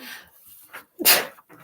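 A single sharp sneeze bursts out near the microphone after some soft breathy sounds, loud and brief.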